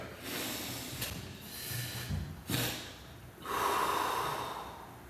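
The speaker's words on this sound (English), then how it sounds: "you breathe in as much as you possibly can, and then after that you hit another sharp inhale" A person takes a long, deep breath, then a sharp second inhale, then a loud, hissy exhale, all close to the mic with no talking.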